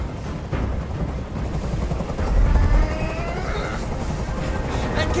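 A hovering helicopter in the video game Detroit: Become Human's hostage scene, a steady loud rotor rumble with heavy low-end throb that fills the whole stretch, swelling briefly midway.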